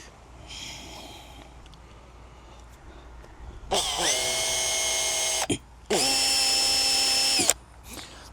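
Power drill boring a hole for a boat mast fitting: after a faint whir, two loud, close bursts of high whining drilling of about two seconds each, separated by a brief pause, with steady motor pitch.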